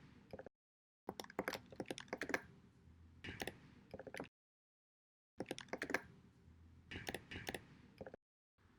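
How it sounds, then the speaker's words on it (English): Quick bursts of fingers typing on a computer keyboard, with rapid, close key clicks in two main runs separated by brief silent gaps, faint and without voices. "Let's type in hashtag healthy living and hashtag"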